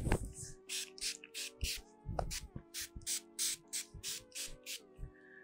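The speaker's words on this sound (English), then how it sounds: "I'm just gonna spray it all over my hair" A heat protectant spray bottle hisses onto short hair in a quick series of short bursts, about a dozen pumps in a steady rhythm, close and fairly quiet over a soft musical background.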